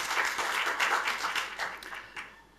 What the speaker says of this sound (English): vous pouvez les applaudir tous ensemble